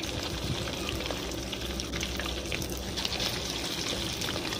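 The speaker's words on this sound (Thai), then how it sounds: "เอาน้ำมันนะคะใส่กระทะนะคะ" Cooking oil trickles steadily into a frying pan, heard up close and fairly quiet as it is readied for frying pork balls, with no talking.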